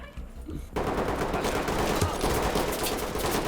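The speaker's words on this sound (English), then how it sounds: "The weapons sound great to fire" In the video game Ready Or Not, a sudden burst of rapid gunfire erupts after a brief quiet moment and continues as dense, sustained shooting.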